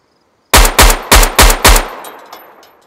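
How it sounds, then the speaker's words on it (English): Five loud, evenly spaced unsilenced gunshots ring out in the DayZ survival video game, each a sharp close crack with a ringing echo that fades away after the last shot. "I'm going to take my silencer off and fire a shoot a few shots"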